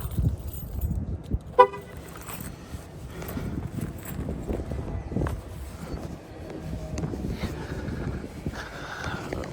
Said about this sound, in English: Lock this car door.